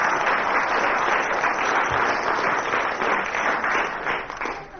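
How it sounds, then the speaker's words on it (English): Steady applause from a radio comedy panel show's studio audience, led by the commissionaires, a dense continuous wash of clapping that holds loud throughout and thins slightly near the end. "The commissionaires clapping there had misled us."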